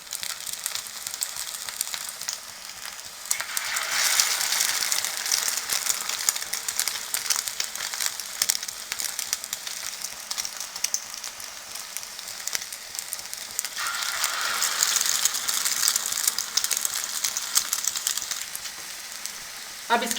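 Vegetable kebabs fry in cooking oil over a low flame, giving a steady close sizzle and crackle that runs on and on and swells louder in two spells.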